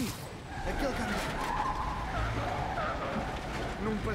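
A car skids during a chase in a Spider-Man video game, its tires squealing in long rising and falling whines over a steady engine roar. A voice talks over the skidding.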